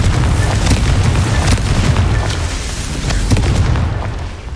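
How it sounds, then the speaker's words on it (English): A fire-blasting Confringo spell from Hogwarts Legacy booms loudly and continuously, a dense, rumbling barrage of explosive bursts that fades slightly toward the end. "Confringo!"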